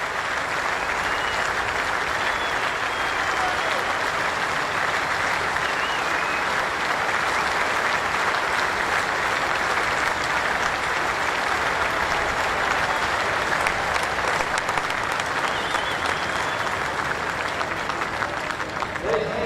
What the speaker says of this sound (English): Applauded by some of the Australian players as well.